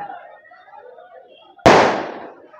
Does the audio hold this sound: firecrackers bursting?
yes